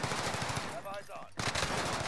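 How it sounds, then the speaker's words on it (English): Rapid bursts of automatic gunfire in the shooter game Warzone Rebirth, two loud volleys separated by a brief pause. "Taking fire here."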